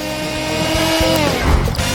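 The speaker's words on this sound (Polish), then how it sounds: "Włączam blender" Kitchen blender whirring as it purees watermelon pulp into juice, a loud steady motor drone with shifting pitch over two seconds.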